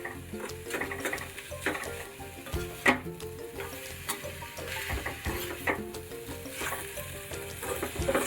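Semolina filling stirred in ghee in a pan over low heat, giving steady small scraping and clicking strokes with a soft sizzle, partly under a tonal background.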